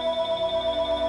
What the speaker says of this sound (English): goddamn, my phone's ringing.